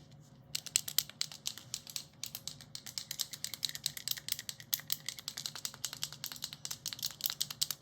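A colouring pen or marker shaken hard by hand, a fast steady rattle that starts after a short pause and runs on close and loud to the end, with no talk.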